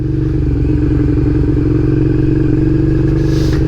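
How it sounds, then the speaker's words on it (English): A motorcycle engine idles steadily and loudly up close, a constant low chugging rumble with no voices. "nothing but the motorcycle noise to fill your ears"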